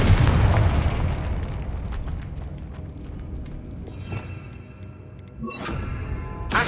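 A fiery Confringo spell explosion from the Hogwarts Legacy video game bursts with a loud low boom, rumbling debris that fades, and then sharper crackling bursts near the end.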